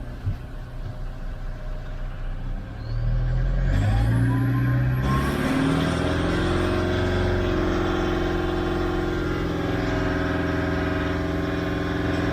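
A Toyota Land Cruiser engine idles, then revs up to a steady 2,500 RPM during a battery load test, its mid-pitched drone holding evenly after the rise.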